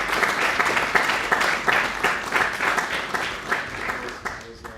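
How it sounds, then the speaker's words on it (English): Audience claps at a scholars' gathering, a brief round of applause with distinct clustered claps, moderately loud and fading slightly toward the end. "Can I give a round of applause?"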